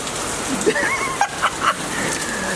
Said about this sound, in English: it's definitely a torrential downpour